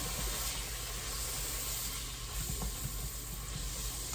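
Flour being stirred in a hot pan for a Thanksgiving dish, giving a steady, continuous sizzle and hiss up close, with faint scraping and no talk.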